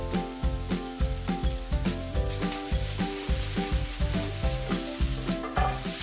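Butternut squash and kale sauté in a pan with a dense, bright sizzle and repeated rhythmic stirring scrapes, steady and close throughout.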